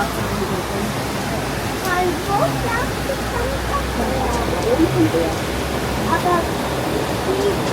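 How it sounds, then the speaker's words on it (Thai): Lauterbrunnen waterfall in Switzerland roars as a steady, broadband wash of falling water, close and continuous, while people's voices chatter faintly underneath throughout. "มันจะเป็นน้ำตก น้ำตกที่นี่สามารถขึ้นมาแตะต้องได้นะ"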